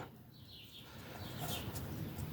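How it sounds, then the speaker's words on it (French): Small birds singing outside an open window, faint high chirps and trills over a soft background hiss, with a few brighter calls toward the end. "Je pense que vous devez entendre les petits oiseaux qui chantent, ils s'en donnent à cœur joie."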